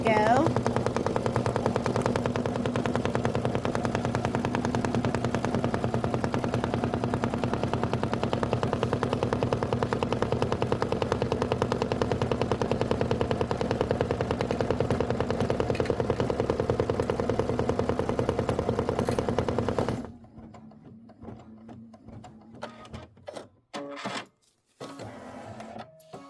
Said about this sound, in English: we're going to do the placement stitch for the chimney